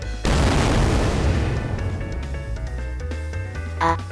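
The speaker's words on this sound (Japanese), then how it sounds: "おいおい、今の爆発は" A loud explosion bursts in suddenly in an anime-style magic battle, a heavy booming blast with a long rumbling decay over several seconds and a smaller burst near the end.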